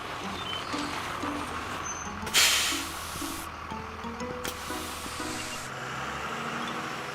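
Bus interior rumble in an animated children's cartoon: a steady low engine drone runs throughout, with a loud burst of hiss like an air brake partway in, while soft tonal music plays along underneath.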